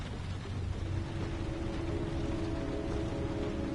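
Steady, dense rain pouring down in the Heavy Rain video game, a constant even hiss with a faint low hum beneath it and no pauses.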